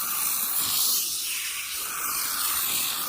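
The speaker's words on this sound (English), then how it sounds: "I'm spraying the whole thing because the whole thing needs a good cleaning" ArmorAll carpet and upholstery cleaner sprays from a trigger bottle onto fabric in a continuous, close, breathy hiss that lasts about three seconds with only slight dips.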